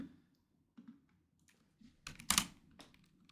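Typing on a computer keyboard: scattered soft key taps, then a quick cluster of louder clicks near the end, quiet and close with no talking.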